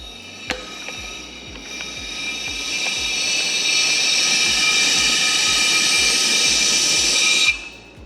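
An Eastwood dual voltage powder coating gun blowing air at about 7-8 psi gives a steady, loud rushing hiss that holds for several seconds, then cuts off abruptly.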